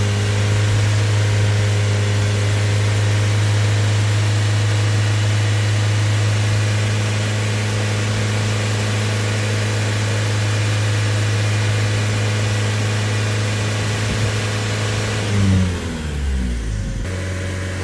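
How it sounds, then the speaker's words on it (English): Vauxhall Vivaro van with a blocked diesel particulate filter, engine held at steady high revs as a loud continuous drone, then dropping back toward idle near the end. "as I rev it up now, still quite a lot of smoke coming out the back there"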